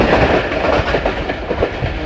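Pakistan Express 46 Down passenger train passing through Kaliyam Awan railway station, a close, loud continuous rumble with rhythmic clickety-clack of wheels over rail joints.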